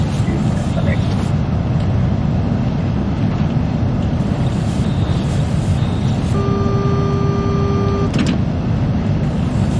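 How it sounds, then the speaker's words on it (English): In a train cab on the London to Faversham route, an AWS warning alarm sounds as a steady electronic tone for about two seconds, then cuts off sharply, over constant loud engine and track rumble. "the AWS just went off again"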